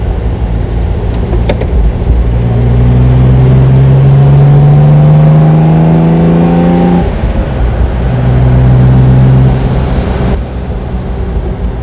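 The engine of a restored 1969 Mercedes 280 SL Pagode roars loudly up close, rising in pitch as it revs, then falls off and revs again before settling to an idle.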